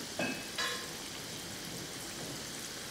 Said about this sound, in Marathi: ही उलटवायची आणि वरची बाजू पण छान तळून घेऊयात